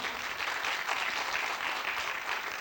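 Attendees at a dental implant lecture meeting in Seoul give strong, continuous applause to welcome the next speaker, with steady dense clapping throughout and no talking.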